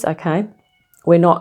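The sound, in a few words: cat meowing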